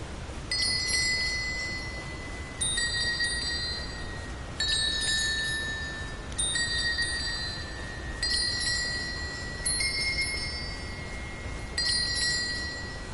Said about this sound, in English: Yeah, little jingle bell.